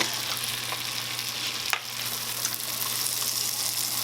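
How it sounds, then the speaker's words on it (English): Red onion frying in a pan of oil for cheddar broccoli soup, a steady broadband sizzle that runs throughout with one brief sharp clink midway, close and fairly loud, with no talking. "we're going to put in our red onion"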